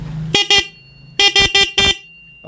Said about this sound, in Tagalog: At mapapatunog mo na ngayon yung stock horn.